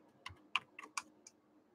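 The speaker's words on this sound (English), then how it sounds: "So hard to type with one hand now." Five sparse, separate keystrokes on a computer keyboard, typed one-handed during a baseball card case break, quiet and close with short pauses between presses.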